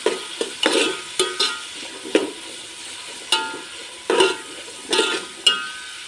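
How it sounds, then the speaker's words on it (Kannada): Onions frying in a pan for a village-style chicken gravy, with a steady soft sizzle under repeated scraping stir strokes of a spoon against the pan, about ten irregular close strokes and no talking. "ಈರುಳ್ಳಿ ಎಲ್ಲ ಚೆನ್ನಾಗಿ ಫ್ರೈ ಆಗಿ ಕೆಂಪಗಾಗಬೇಕು."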